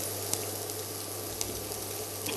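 Chopped onion drops into hot oil for a mushroom biryani and sizzles as a steady, even hiss with a few faint clicks, close to the listener, with no talking.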